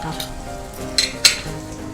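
Cumin seeds sizzle and crackle in hot oil with a steady frying hiss, punctuated by a couple of sharp metallic clinks from a utensil.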